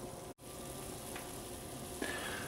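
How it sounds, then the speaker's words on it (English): Cabbage soup coming to a boil in a pot, a steady bubbling hiss with a faint brief clink, quiet and close, with no one talking. "So it's getting beautiful boil up there."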